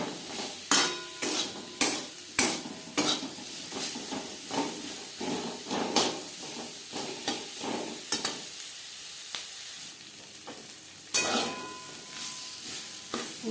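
Bitter gourd sizzles and hisses in a large kadai while a metal spatula repeatedly scrapes and clinks against the pan. The food is being cooked for a vegetarian matar dal, and there is no talking.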